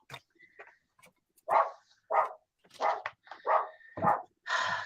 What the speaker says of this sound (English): Can you all hear her? It's barking.